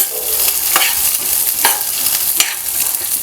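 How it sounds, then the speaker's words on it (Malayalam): Garlic, peanuts and coconut pieces sizzle steadily in a pan on medium flame while being stirred, with soft scraping strokes recurring through the hiss; close and continuous. "അപ്പോൾ ആ വെളുത്തുള്ളിയും കപ്പലണ്ടിയും നാളികേരക്കൊത്തും ഒക്കെ ഒന്ന് ഫ്രൈ ആയി വരണം."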